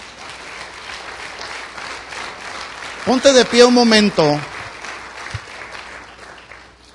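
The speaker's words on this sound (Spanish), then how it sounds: "¿Cuántos dan un aplauso al Señor por todo esto?" A church congregation applauding during a sermon. A dense wash of clapping runs steadily underneath, and a voice speaks loudly over it partway through.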